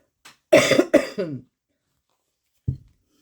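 A few hoarse coughs close up, a quick cluster of three followed by silence, then one short cough near the end.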